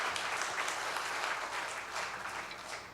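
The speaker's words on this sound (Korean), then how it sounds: "우리 감사의 박수를 한번" Church congregation applauding together in a sustained, dense burst of clapping, steady and fairly near, with no talk over it.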